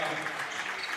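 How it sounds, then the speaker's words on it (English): Crowd applause in a gym during senior recognition at a high school girls' basketball game, a steady, moderately loud wash of clapping and cheering that continues throughout. "we're going to get a nice round of applause for Maddie Learcamp"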